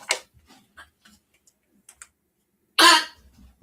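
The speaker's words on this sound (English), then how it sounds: "My dog is coughing." A pet dog coughs nearby in a quiet room, a sharp harsh burst of coughing near the start and a louder raspy hack later, separated by soft scattered ticks and small noises.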